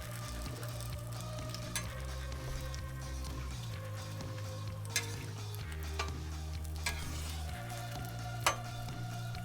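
Jalapenos frying on a Blackstone griddle, a soft continuous sizzle close by over a low steady hum, with a few faint clicks and scrapes.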